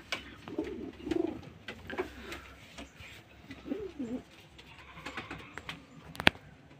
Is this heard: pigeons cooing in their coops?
yes